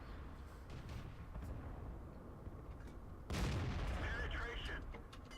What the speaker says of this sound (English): Putting a lovely old shot into that Sherman there.